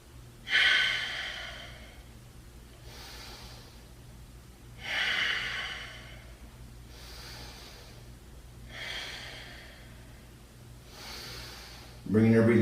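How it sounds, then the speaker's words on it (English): Slow, heavy breaths after a lower-body yoga workout, with about four long audible exhales spaced a few seconds apart, close and fairly loud, and a brief voice right at the end. "Bringing your breathing back to normal now because the workout's all done."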